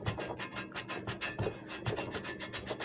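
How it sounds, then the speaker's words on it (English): Old residue is scraped off a 5000 lb jack in quick, rhythmic rasping strokes, close and fairly quiet, with no voices. "I'm going to keep scraping. I'm going to get all this junk off of here."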